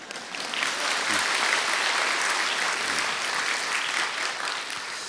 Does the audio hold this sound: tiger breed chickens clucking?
no